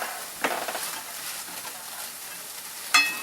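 Soft, steady sizzling of an omelet frying in a pan, with a clink of a utensil near the start and another near the end.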